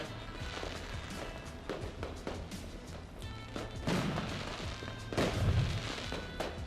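Fireworks celebrating a 100-colonist milestone at a Mars colony in the game Surviving Mars, a string of soft booms and crackling pops at an even, moderate level.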